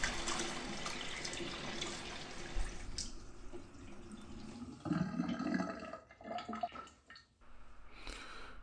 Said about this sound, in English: now that the water has been running for a while